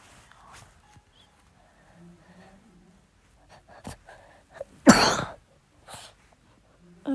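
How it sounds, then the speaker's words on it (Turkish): A quiet stretch with faint shuffling gives way to a single sharp cough near the middle, followed by a few softer throat noises. "Biraz öksürüyorum"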